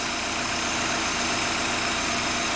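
A Volkswagen TDI diesel car engine idles steadily and close during a boost output test, a continuous low rumble with a fast even throb and no other sounds.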